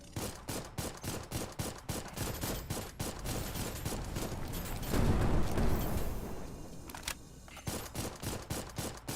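A rifle in the Dolls Nest game fires steady rapid bursts of close, loud shots, broken by a rumbling swell midway and then a short pause before the firing resumes, with no talking.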